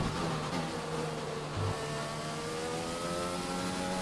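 Formula 1 car in F1 2020 lapping in qualifying at the Italy round, a loud sustained high-revving engine whine holding steady with a brief dip mid-way, continuous and close without talk.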